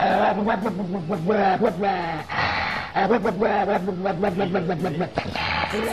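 Close, pinched dog vocalizations, a warbling growl-whine that wavers continuously, with brief breaks between strained bursts.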